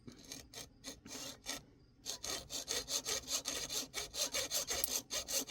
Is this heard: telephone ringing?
no